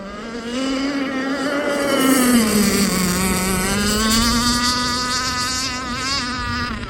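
Aeromarine Avenger 44 gas RC boat with a Zenoah 29cc engine and steel Gizmo pipe at full throttle, a loud high-pitched buzzing whine whose pitch dips and rises again as it passes.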